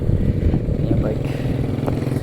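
A motorcycle engine running close by, a dense low rumble that holds steady throughout the short stretch, with someone talking over it.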